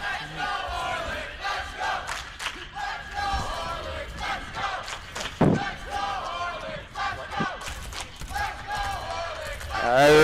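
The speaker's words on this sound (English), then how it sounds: "the pro-receive crowd is bringing the Horlick chants in" Crowd at a Division 1 Overwatch esports final between Bay Port and Horlick, loud and continuous, with chanting and cheering bursts alongside an announcer's voice throughout.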